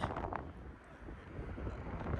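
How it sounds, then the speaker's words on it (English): Low rumbling wind buffets the microphone in uneven gusts, a steady outdoor roar with no voices. "Real windy today."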